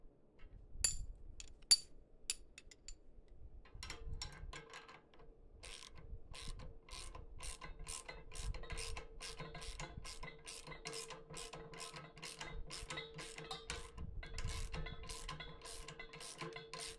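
A ratchet tightens bolts during assembly of a 2022 Harbor Freight 3-1/2 cubic foot cement mixer. Quick, crisp clicking comes in repeated bursts, with a few metallic clinks and handling knocks, fairly quiet and close.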